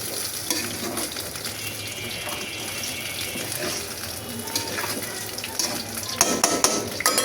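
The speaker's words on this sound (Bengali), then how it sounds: "আর এই হচ্ছে আলুর চপগুলো ভেজে নিতেছি।" Potato chops fry in hot oil in a home kitchen, with a constant close sizzle alongside occasional clinks of a utensil against the pan, and no voices.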